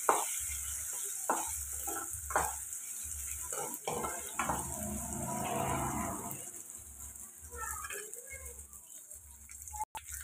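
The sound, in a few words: ingredients frying in pan for egg and dried fish curry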